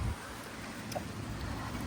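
Outdoor wind blusters steadily on a cold evening, a continuous low roar with a rumbling buffet against the microphone, faint and unbroken, no voices.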